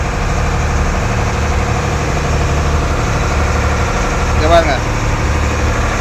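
A steady, loud boat engine idles in the engine room at sea with a constant low drone and rattling vibration, and one brief higher-pitched tone rises near the end.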